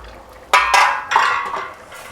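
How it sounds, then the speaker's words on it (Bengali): A metal lid comes off a cooking pot of boiling elephant-foot yam and potatoes with a clattering clink, followed by a second scraping rattle, close and alone. "ঢাকনাটা খুলে দেখব"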